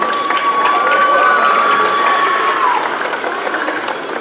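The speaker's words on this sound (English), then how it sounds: "a round of applause" Applause and cheering fill an awards banquet for a youth sports league, a crowd clapping steadily with shouts and a high whistle rising over it before the noise gradually thins.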